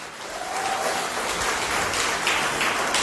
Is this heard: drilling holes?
no